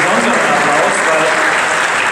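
A crowd at a Ford event in the Saarlouis plant claps loudly and continuously, a thick wash of applause over the short stretch.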